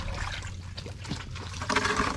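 Water being poured out for an animal to drink, heard as a brief close trickle and splash that swells toward the end over a low background rumble.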